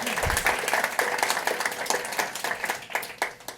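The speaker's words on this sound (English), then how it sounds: "Yeah, you can clap." An audience at a tech talk on Firebase and Gemini breaks into steady applause, a dense wash of many hands clapping at fairly even loudness for several seconds, with no one speaking.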